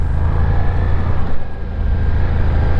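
Ducati Diavel V4 motorcycle engine in wet riding mode, in second gear, running steadily with a slight dip as the throttle is rolled off and back on, loud and close, with no talk.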